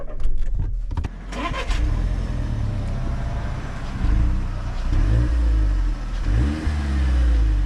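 An Audi A1 engine cranks and starts with a push of the start button, then revs several times; close, loud engine with rising and falling revs after the initial starter bursts.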